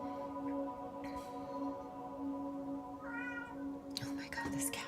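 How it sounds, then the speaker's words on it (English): A pet cat named Pretty Boy meows a couple of times close by indoors, short rising cries over a steady hum, with a person talking around them. "Oh my God, this cat."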